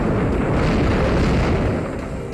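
Earthquake move in the Pokémon Omega Ruby/Alpha Sapphire battle game, a loud, sustained rumbling roar that holds steady for over two seconds before easing slightly at the end.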